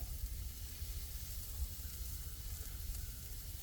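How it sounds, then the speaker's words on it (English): A cabbage wedge seasoned with salt and pepper sizzles steadily in a hot pan, a faint continuous frying hiss with no talk over it. "I'm going to start on my cabbage wedge. I'm going to cook it just like this, with some salt and pepper."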